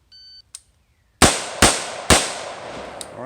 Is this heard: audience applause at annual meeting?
no